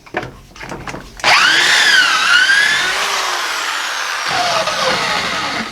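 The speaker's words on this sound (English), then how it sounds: "Grab my drill." A power drill whirs up loudly, its pitch rising and falling as it bites, then settles into a steady high whine before spinning down.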